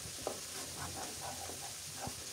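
Spices sautéing with a little water in a pan for chicken nihari, giving a steady low sizzle with occasional soft stirring scrapes, close and fairly quiet, with no talk.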